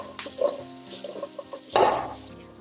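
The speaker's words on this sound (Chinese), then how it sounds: "将土豆和南瓜给它烧个1分钟左右，烧的过程中要不停地给它翻动，防止将它炒糊" Potatoes and pumpkin stir-fried in a pan, with a spatula scraping and stirring in short uneven strokes against a low sizzle, close and moderately loud, with one louder scrape near the end.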